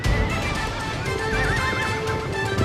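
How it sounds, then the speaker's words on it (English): Stampede of horses neighing and whinnying over thundering hooves, a dense, loud, continuous herd sound with a long wavering whinny standing out in the middle. "apparently summons an entire stampede of horses"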